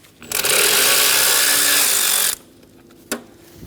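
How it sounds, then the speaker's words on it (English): A power tool backs out the 8mm bolts on the radiator fan assembly of a 2012-2020 Chevrolet Sonic 1.8L L4. It whirs loudly for about two seconds, cuts off, and a single sharp click follows. "Remove the 2 8mm bolts for the fan assembly."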